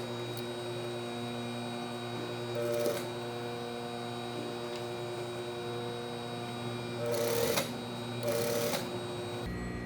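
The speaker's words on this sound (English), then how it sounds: "sewing and a 1/4 seam allowance all the way around the neckline" A sewing machine runs in three short bursts, stitching a quarter-inch seam allowance around the neckline of a basic bodice, with a steady mains hum underneath between the runs.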